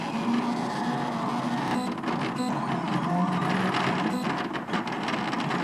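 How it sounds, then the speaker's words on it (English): A 3D printer lays down its smooth top layer with a steady whirring and buzzing of motors, continuous and moderately loud, with no talking. "Here the printer is icing the top layer, or the smooth layer, in preparation to start printing Happy Birthday."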